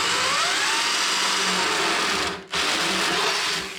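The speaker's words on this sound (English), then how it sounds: "looking at the drill bits I have, I believe I'll need to make a 7/16 inch hole." A power drill drills a 7/16 inch hole in a toolbox for a DIY 48V LiFePO4 battery build, a loud, steady high whine that stops briefly and then runs on again.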